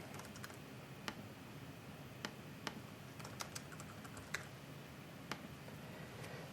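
Fairly quiet keystrokes on a computer keyboard in short, irregular bursts, entered into a chat room of a Vaadin and Spring web application, with no talking.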